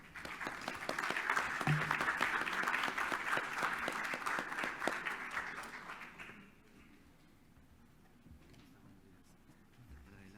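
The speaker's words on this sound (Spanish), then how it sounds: "Recibamos un fuerte aplauso al doctor Álvaro Javier Pérez Ragone." Audience applause for Dr. Álvaro Javier Pérez Ragone at a lecture, a dense burst of clapping that holds for about six seconds and then drops away to a quiet room, with faint voices underneath.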